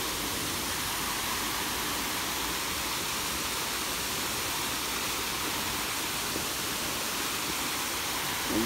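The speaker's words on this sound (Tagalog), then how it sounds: "malakas ang tubig siguro no" Steady, broad rushing water roars continuously at an even level, like a waterfall heard up close, with no voices; a waterfall in a Hong Kong park.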